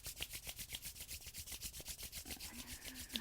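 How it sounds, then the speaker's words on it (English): Hands rubbing briskly together during a yoga class, a close, steady rhythmic swishing friction repeating about six times a second with no talk. "Now begin to rub your hands together."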